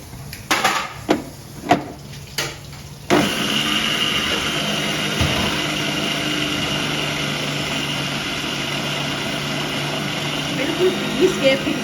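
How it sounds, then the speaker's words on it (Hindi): A blender grinds flax seeds in a home kitchen: a few short pulses, then one continuous whirring grind that runs steadily to the end, fairly close. "अब ये अलसी को ना"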